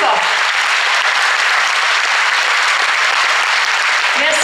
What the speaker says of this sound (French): on peut leur faire un hommage et les applaudir encore plus fort